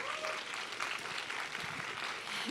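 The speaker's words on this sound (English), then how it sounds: "Can y'all give him a round of applause?" An audience gives a round of applause at a church event, a short burst of many hands clapping, moderately loud with faint crowd murmur underneath.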